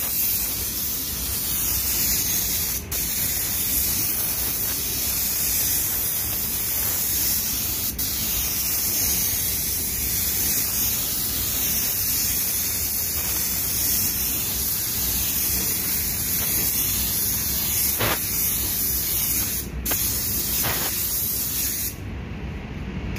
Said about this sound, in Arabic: احنا ننزل باخر وش رجاله من الابيض.